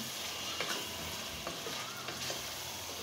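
Large chicken pieces for chicken tehari hitting hot oil and frying spices, a steady close sizzle with soft scraping and a few faint ticks, no talk.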